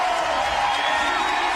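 A crowd at the 2018 CrossFit Games cheers and whoops steadily, a sustained roar of massed voices filling the arena with a broad, even wash of noise.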